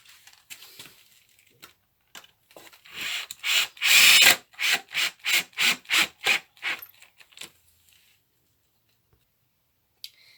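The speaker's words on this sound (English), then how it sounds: "I'm just going to use glue and screws to attach the legs on." Screws are driven into glued wooden legs of a picnic bench, a burst of rhythmic driver pulses followed by evenly spaced ratcheting strokes that tail off into near silence.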